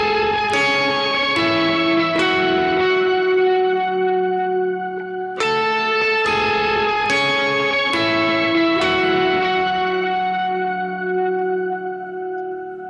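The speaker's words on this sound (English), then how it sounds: "I'm also going back to the shimmer verb, I'm adding another overdrive, and I'm adding the pog to it just to make it massive." Electric guitar through shimmer reverb, added overdrive and a POG octave pedal, bright picked notes ringing out in bursts with long, swelling bell-like tails that wash into one another.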